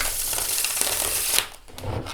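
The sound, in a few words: shuffling Herbcrafter's tarot card deck by US Games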